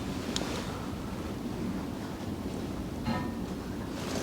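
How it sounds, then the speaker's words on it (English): Wind gusting over a shed roof during snowfall, a steady broad rushing roar that swells slightly near the end, with a couple of brief higher whooshes and no talking. "I don't know if you can hear the wind picking up on the shed roof"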